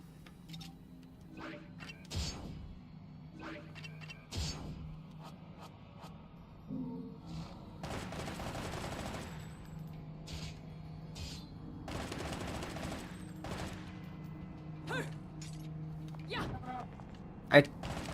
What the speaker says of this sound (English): Alright, let's try the shotgun.